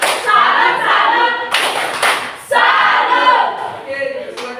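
Classroom group clapping routine called 'tepuk salut', with students clapping together in short bursts and shouting chant words over the claps, loud and close, with a brief pause midway.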